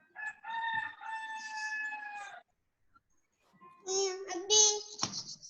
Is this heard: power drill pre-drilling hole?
no